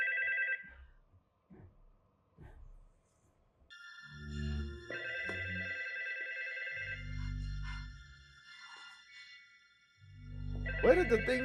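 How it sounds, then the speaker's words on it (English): A telephone rings in a tense horror-style TV episode scene, a high electronic trill heard in bursts among low thuds, dramatic music and brief speech. "And the phone has to ring."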